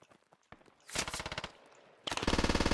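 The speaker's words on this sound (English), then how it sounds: "Friendly's shooting" Automatic rifle fire from a friendly soldier in the video game Squad, two rapid bursts of loud, close shots in fast rhythm after a few softer thuds and footsteps.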